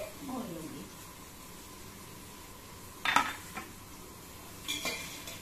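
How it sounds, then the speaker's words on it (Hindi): Paneer, capsicum and peas are sautéed in a pan, with a faint low sizzle under a woman's speech and a couple of sharp metal spoon clinks against the pan. "अब मैं डाल रही हूँ इसमें शिमला मिर्च और मटर, इन सबको मैं अच्छे से भून लूंगी।"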